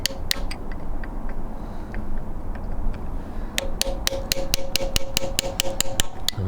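Hammer blows bend back tab washers on a 1967 Triumph Spitfire engine during a strip-down. A few scattered metallic taps come first, then a rapid, steady run of sharp, close strikes.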